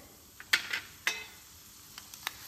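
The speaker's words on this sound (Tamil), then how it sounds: "எண்ணெய் இப்போ காஞ்சதுக்கப்புறம் உளுந்தம்பருப்பு ஆட் பண்ணிக்கோங்க" Urad dal hitting hot oil in a pan, a few sharp crackling pops and spits over a quiet low sizzle, close and brief.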